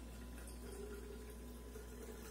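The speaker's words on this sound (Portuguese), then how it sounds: "E vou misturar com mais 350 ml de água fervendo." Just-boiled water being poured into about 350 ml of room-temperature water to make gelatin for a quick milk-powder dessert, a steady, low, fairly quiet liquid rush running through the whole moment with no talking.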